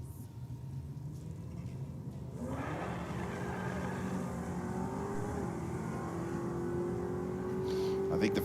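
Drag racing cars at Sydney Dragway, with a steady engine roar that climbs in pitch as a car accelerates down the strip, heard at a distance under a commentator's voice.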